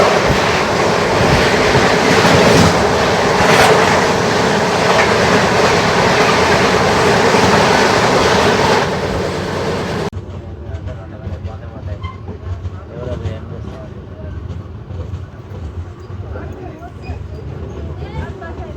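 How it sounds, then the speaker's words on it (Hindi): Indore–Nizampalli Humsafar Express crossing past a moving train, a loud dense roar of rolling wheels and rail noise for about ten seconds, then a quieter, steadier rumble with faint clatter. "कुछ ही देर में हम लोग से क्रॉस होने वाली इंदौर निगमपल्ली हमसफर एक्सप्रेस"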